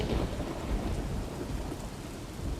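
A cartoon storm effect mixes steady heavy rain with low rumbling thunder, a dense, continuous wash of sound at moderate level throughout, with no voices.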